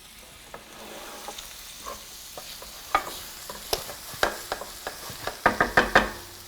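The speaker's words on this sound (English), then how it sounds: "once we add the paprika and the chili flakes, those spices kind of toast with the tomato paste as well" Paprika, chili flakes and tomato paste sizzle softly in a pan as they are stirred, with a soft frying hiss under a run of spoon scrapes and knocks that come faster and louder near the end.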